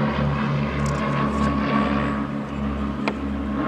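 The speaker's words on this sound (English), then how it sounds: "There goes the airplanes." A propeller airplane flies over close to an airport, producing a steady, loud droning hum with a rhythmic pulsing throb that keeps going throughout, with no voices.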